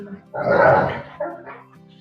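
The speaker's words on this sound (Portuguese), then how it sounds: "meu cachorro tá fazendo um escândalo" A dog barks excitedly in a short loud burst with a second yelp, close to the microphone, over a quiet indoor background during an online class on growing medicinal plants.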